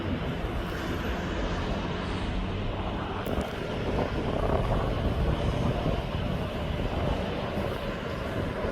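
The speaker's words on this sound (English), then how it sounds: "There goes that Jet2." A Jet2 airliner passes at East Midlands Airport, a steady broad roar of engine and rushing air that holds level through the whole stretch, with no voices.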